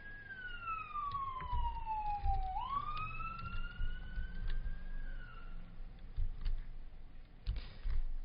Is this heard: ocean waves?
no